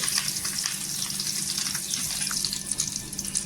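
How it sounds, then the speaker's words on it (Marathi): Stuffed brinjal (eggplant) sizzles in hot oil in a pan, a continuous bright hissing crackle heard close and fairly loud throughout. "इथे तेल आहे ना गरम झालेलं आहे. आता आपण वांगे टाकून घ्यायचे."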